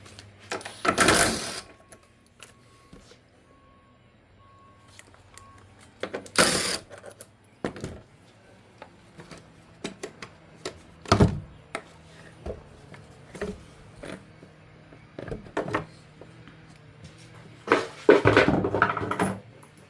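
Two 10 mm bolts are loosened from the engine cover of an Infiniti QX60 with a ratchet, giving scattered close clicks and metallic clanks between quiet pauses, with a few louder bursts of handling noise.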